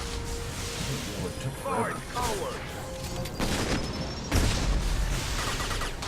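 Gunfire crackles in a Mass Effect 2 firefight, with several bursts and mechanical clatter layered over a steady, busy combat background.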